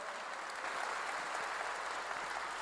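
A church congregation claps together in sustained, dense applause that holds at an even level throughout, filling the room with no voices standing out.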